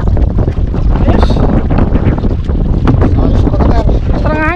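Strong wind buffets a loaded fishing boat (bangka) at sea, a steady loud roar and rumble against the microphone with water and engine noise beneath, while people shout and talk excitedly throughout.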